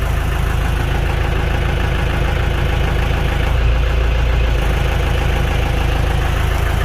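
An LS PS80 tractor engine runs steadily under load, a loud, continuous low rumble with a rough, knocking texture that holds throughout without pause; the tractor shows fault code A12 with automatic leveling not working.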